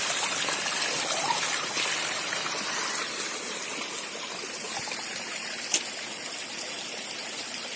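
Steady broadband rush of a mountain stream trickling through the Alps, continuous and fairly close with no talk, a couple of faint clicks near the end.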